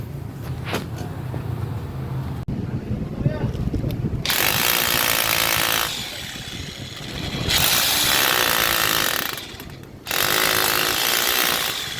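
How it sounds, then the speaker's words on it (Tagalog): A loud, whining power drill bores into a post in several long bursts separated by brief pauses, with clatter and handling noise in between. "Babarena ko na lang siya rito."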